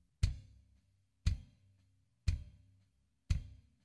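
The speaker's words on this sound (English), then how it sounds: "So the combined bass drum track sounds like this without plugins." Unprocessed combined bass drum track from a rock mix, four separate kick hits about a second apart, each a punchy thump with a short decaying tail, alone and fairly quiet.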